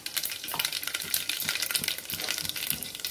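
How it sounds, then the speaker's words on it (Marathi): Mustard seeds and cumin sizzle and crackle steadily in hot oil for a tempering, a dense close-up spatter with scattered pops and no talk. "कढीपत्ता, कांदा, टोमॅटो, मिरची, राई आणि जिरं याची आपण फोडणी करून घेणार आहोत"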